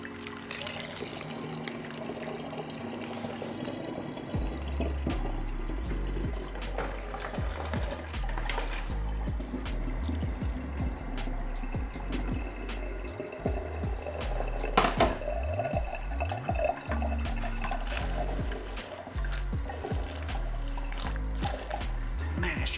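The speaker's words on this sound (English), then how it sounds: "We're using this mesh bag inside the funnel to strain out all the fruit, all the stems." Fruit juice strained through a mesh bag set in a funnel, trickling and dripping steadily, with low squelching and handling knocks and a low rumble underneath, all close by.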